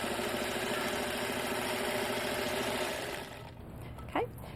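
A sewing machine runs steadily while stitching fabric squares along a diagonal line, then stops. A brief squeak follows in the quieter part.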